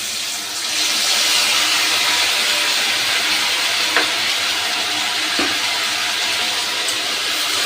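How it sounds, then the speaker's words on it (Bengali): Ginger, green chilli and poppy seed paste hit hot oil with whole garam masala and bay leaf, setting off a loud, steady sizzle close by, with a couple of faint clinks. "এবার দিয়ে দিচ্ছি আদা, কাঁচা লঙ্কা আর পোস্ত বাটা।"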